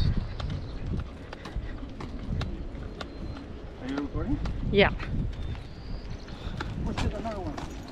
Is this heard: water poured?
no